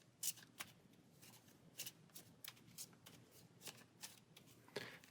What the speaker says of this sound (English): So we'll take our hand of cards, shuffle into our deck.